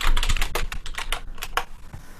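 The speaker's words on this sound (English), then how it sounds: "Oh, the insane typing." Fast typing on a computer keyboard: a rapid, uneven run of crisp key clicks, close and fairly loud, over about two seconds.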